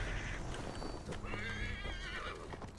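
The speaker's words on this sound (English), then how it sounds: "After the jump, just instantly get on the horse." Horse neighing and whinnying with clip-clopping hooves in Assassin's Creed Valhalla, a loud, close whinny rising over a steady trot of hoofbeats across the short stretch.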